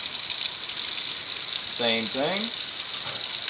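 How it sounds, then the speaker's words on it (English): Water pours steadily out of an Elerator dish drying rack, a close, continuous rushing flow that holds level throughout while a voice speaks briefly over it. "And the water comes right on out."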